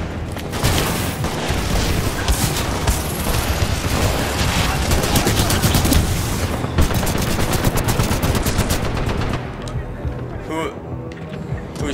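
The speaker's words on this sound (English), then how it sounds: "Who is shooting me?" Dense, rapid gunfire and explosions from the video game Titanfall 2 fill most of the clip, loud and continuous with bursts of automatic fire before thinning out near the end.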